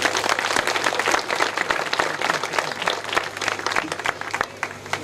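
A congregation applauds at a priestly ordination, steady dense clapping from many hands filling the whole stretch, loud and continuous with a faint low hum beneath.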